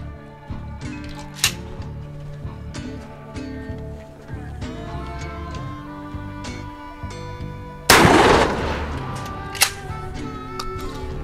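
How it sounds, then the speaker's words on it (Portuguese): A single loud shotgun blast of fine birdshot into meat rings out close by, preceded by scattered clicks and handling noises in an otherwise quiet space. "vamos atirar nessa região aqui com o 3T, que é o chumbo mais fino que nós estamos utilizando"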